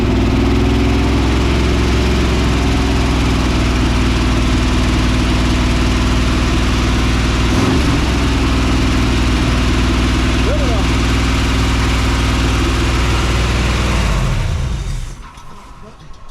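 A 1979 Chevrolet C10 engine runs loud and close at a steady idle with a deep rumble, dying down near the end.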